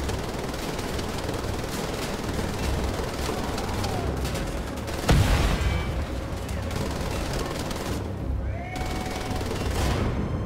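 Sustained turret fire from the video game Wolfenstein: The Old Blood sounds as a dense, steady roar of rapid shots, with one sharp heavy boom near the middle and brief lulls toward the end.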